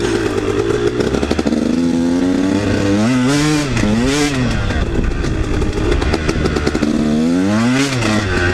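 A KTM 150 dirt bike churns through mud, its engine loud and close, revving up and down in repeated rising and falling bursts as the rider pushes through slippery ground.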